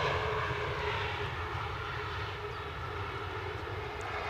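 An Iberia Express airliner at windy Edinburgh Airport gives off a steady, distant jet engine roar that holds at even loudness with no voices.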